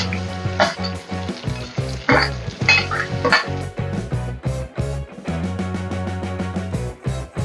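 Onion, curry leaves and green chillies sautéing in oil with horse gram, a steady close sizzle broken by scraping stirs, with a tonal hum running underneath throughout.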